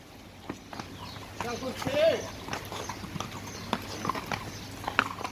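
Pony hooves clip-clop in a steady walking rhythm at close range, with people talking over the hoofbeats.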